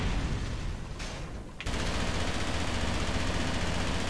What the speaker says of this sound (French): Vous avez tâté ma mitrailleuse lourde.